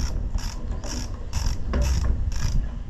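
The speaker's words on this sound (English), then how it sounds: "For that, I brought a regular ratchet." A regular ratchet tightening bolts on an Allis-Chalmers WD tractor, with a steady run of rapid clicking strokes at close range over a low background noise.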